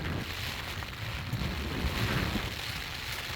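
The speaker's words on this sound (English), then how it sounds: "Alright, a little wind gust has come up" A gust of wind in a Hurricane Debby rainband, a broad steady roar of wind noise with rain hiss that swells slightly midway, close to the microphone, with no speech.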